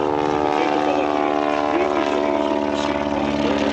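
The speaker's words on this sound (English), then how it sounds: "it is called the Criquet, which is the French variant and powered by a radial engine" A Criquet light aircraft, the French variant of the type, fitted with a radial engine instead of the original Argus inverted V8, flies at the Biggin Hill airshow. It gives a steady, loud droning engine note that holds for the whole stretch, with no gaps.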